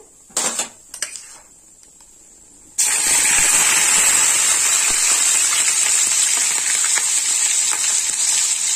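Dried red chilies, cumin and onion paste hit hot oil for a Bengali parshe fish curry, starting with a few clinks of a utensil, then a sudden loud, steady sizzle that fills the rest, close up with no talking.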